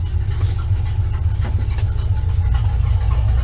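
A 1968 Chevelle's engine idles steadily with no tailpipes fitted, a deep, loud, slightly uneven exhaust burble close by, holding level throughout.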